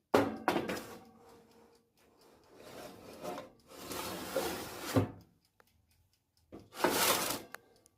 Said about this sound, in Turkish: Şimdi pizzamızı fırına koyuyorum.